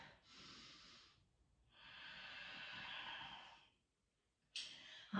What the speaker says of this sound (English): Lion's breath, stick out the tongue, scrunch up the face